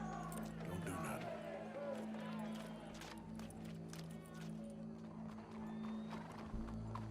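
Horse hooves thud and clop at a run in the Red Dead Redemption 2 video game, faint and mixed with a low engine-like drone, crowd ambience and people talking over them.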